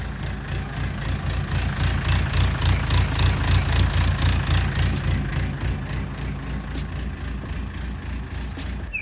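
A Mustang skid steer engine idles roughly just after starting, its steady diesel-like rumble rising and falling in an uneven surge, loud and close with no voices.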